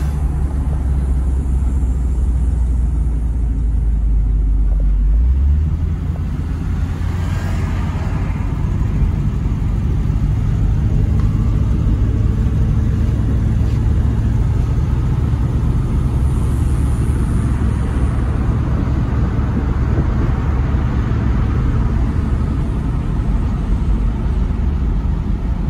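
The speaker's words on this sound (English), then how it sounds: "a little Thunderbird ASMR on this nice evening" A Ford Thunderbird cruises along Route 66 at evening, with a steady, low engine rumble and constant road and wind noise from inside the car. The drone shifts slightly in pitch early on, with no talking.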